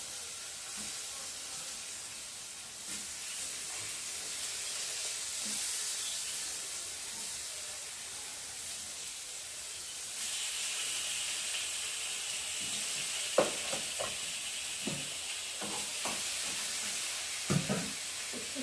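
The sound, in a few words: banana slices frying in oil on a tawa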